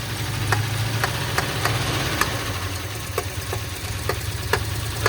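A tuned-up engine with a misfire and a throttle linkage still needing repair runs at a steady idle close by, with a low rumble broken by regular uneven knocks and ticks, and no talk.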